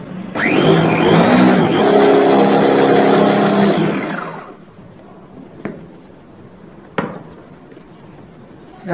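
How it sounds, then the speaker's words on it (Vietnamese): A blender grinds a lemongrass marinade, roaring loudly and steadily for about four seconds before spinning down, followed by a few faint knocks and clicks. "bạn gạt ở trên cái miệng này xuống và xay lại cho nó thật là nhuyễn nhé"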